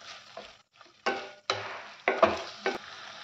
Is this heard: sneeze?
no